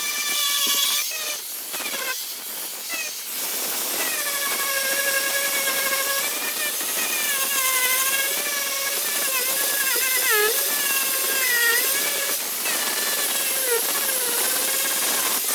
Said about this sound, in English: your diamond blade tool is the best one to go and clean up a lot of these fiberglass surfaces